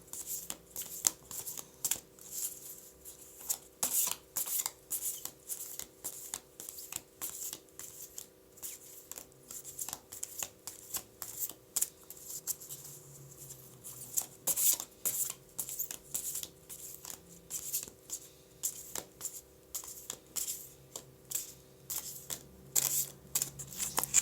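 A deck of tarot cards is shuffled by hand over and over until a card jumps free. The dense, papery riffling and flicking comes in quick, uneven bursts close to the listener, with no talking.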